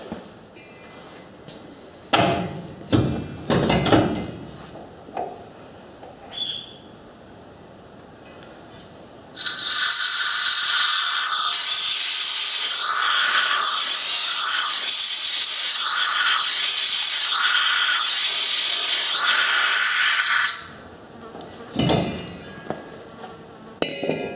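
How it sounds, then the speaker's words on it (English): Compressed air from a gas bottle forced through a brake line in a workshop, a loud continuous hissing blast lasting about ten seconds, framed by clanking metal knocks and handling before and after. "The plan is I'll blow air in through there and it'll come up through there."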